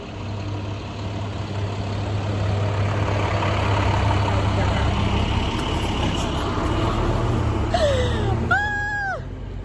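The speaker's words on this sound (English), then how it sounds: "Why is this truck coming to make noise in my video" A truck engine rumbles steadily nearby with a constant low drone that swells slightly as it passes, and a few chirping, sliding tones come near the end.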